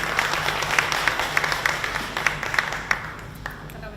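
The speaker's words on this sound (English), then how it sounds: "a warm round of applause for Lebohang and Zanele" An audience applauds to welcome two speakers at an artist talk, a steady wash of many hands clapping with sharper individual claps standing out, fading toward the end.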